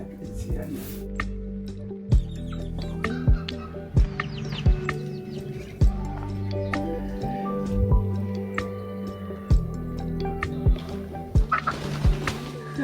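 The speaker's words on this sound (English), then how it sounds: "you'll hear it's just like chickens upon chickens upon chickens" Poultry in a remote rural Chinese village, with repeated nearby gobbling and clucking calls at irregular intervals and other farmyard birds across the scene, while people talk throughout.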